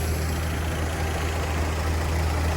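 A rice threshing machine's engine drones steadily, a constant low rumble with a mechanical hum and no break throughout.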